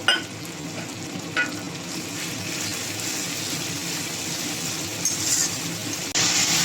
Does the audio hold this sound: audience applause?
no